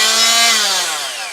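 A power saw cutting wood during a RagWing Heath aircraft tail hinging build gives a loud, close, whining drone that slowly drops in pitch as the blade bogs into the cut.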